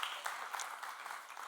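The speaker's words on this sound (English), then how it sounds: "Let's give another round of applause real quick, folks." Brief burst of scattered clapping from an audience at a Sonic Summit 2025 talk in Vienna, soft and somewhat distant, with no voices over it.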